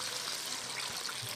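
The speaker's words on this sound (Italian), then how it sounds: "Poi mi aiuto con un po' di acqua di cottura della pasta" Pasta cooking water poured from a ladle into ricotta for a paccheri dish with anchovies and courgette flowers, a short close splashing trickle heard alone.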